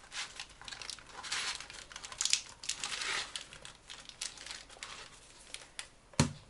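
Sugar-free, uncooked apricot fruit leather is rolled up in silicone-coated baking paper, giving close, steady crinkling and rustling with a sharper crackle near the end and no talking.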